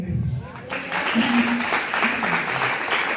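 Applause from a church congregation at a camp gathering swells in after a brief quieter opening and carries on as a dense, loud wash of clapping, with voices mixed in beneath it.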